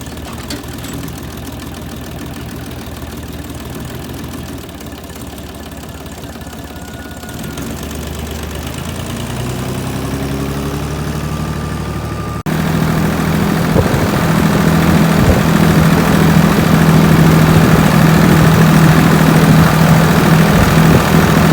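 A tractor engine runs steadily and loudly as it heads out to prepare a field for winter barley, its drone rising in pitch and volume as it accelerates midway and holding a heavier rumble afterward.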